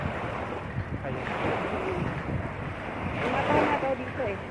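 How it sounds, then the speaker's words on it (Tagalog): Sea waves wash steadily against a rocky shore where mussels cling to the stones, with constant surf and wind buffeting the microphone, and voices talking over the water noise. "Nakipaglaro ako sa balod. Sa alon."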